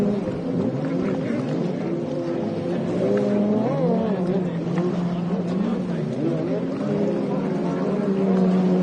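Jet skis racing on Lake Lavon, Texas, a steady droning engine whine with wavering pitch as machines circle the course, with a commentator talking over it throughout.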